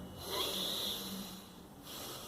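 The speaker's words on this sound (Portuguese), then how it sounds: "Respiração profunda." A person breathes slowly and deeply from the abdomen, one long, soft, airy breath in and out that is close and quiet, with no voice over it.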